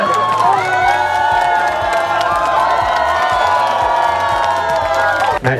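A dense, loud crowd at a fan meet-up cheers and shouts almost without pause. High excited voices carry over the steady roar, and the commotion drops out only briefly near the end.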